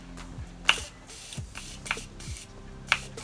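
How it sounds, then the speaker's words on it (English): A setting spray bottle mists a makeup brush in a few short, sharp hissing bursts, close to the microphone and separated by brief pauses. "I'm giving the brush a good mist"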